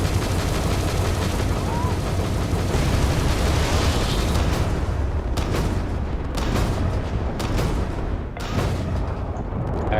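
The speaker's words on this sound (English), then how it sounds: "Actually, I'm using my missile without locking on." Missiles fire and explosions burst in the Starfield video game, a dense continuous barrage of booms and crackling gunfire with sharp repeated blasts in the second half, overlaid by someone talking.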